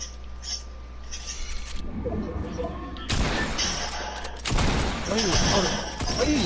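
Video game gunfire in Fortnite, bursts of shots and loud impacts in a 3v3 match, punchy and close, with excited players talking over the action.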